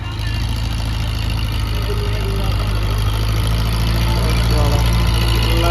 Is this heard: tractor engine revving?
yes